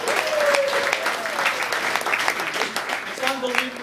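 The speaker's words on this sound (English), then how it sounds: "Give them a round of applause." A workplace group claps together for colleagues being recognized, a steady wash of applause running throughout with scattered voices and brief talk mixed in.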